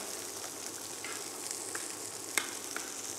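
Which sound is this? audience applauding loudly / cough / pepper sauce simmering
pepper sauce simmering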